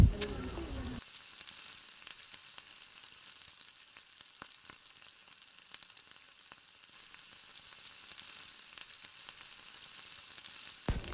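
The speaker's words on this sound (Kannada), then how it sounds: "ಚಿಕ್ಕ ಚಿಕ್ಕ ಪೀಸ್ ಮಾಡಿದ ಪೊಟೆಟೊ. ಅದನ್ನು ಕೂಡ ಚೆಂದ ಮಾಡಿ ಆಯಿಲಲ್ಲಿ ಫ್ರೈ ಮಾಡಬೇಕು" Small potato pieces fry in oil with a steady, soft sizzle and faint crackle throughout, after a brief louder burst at the start.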